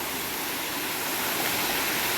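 A small stream at Vijay Sagar Dam in Mandvi, Kutch, rushes over stones in a dense, even hiss of flowing water, loud and unbroken with no voices.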